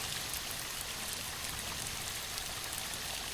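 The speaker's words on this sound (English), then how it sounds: "Alan, I think this is the waterfall that Walter mentioned before we lost contact" Steady broadband rush of falling water from a waterfall, continuous and fairly loud throughout with no talking.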